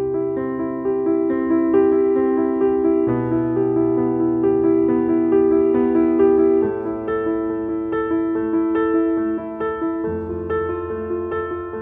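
A beginner's piano chord exercise is played at a quicker tempo. Clear sustained chords change at a steady pace over roughly twelve seconds, close and solo, with no talking.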